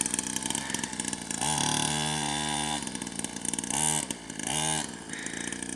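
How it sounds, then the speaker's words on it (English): Small black-and-white DRX 50 two-stroke dirt bike engine buzzing steadily, with repeated throttle blips rising and falling in pitch, loud and close, with no talking. "A little DRX 50 two-stroke,"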